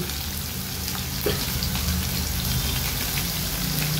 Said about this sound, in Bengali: তো আস্তে আস্তে একটু ফ্রাই হবে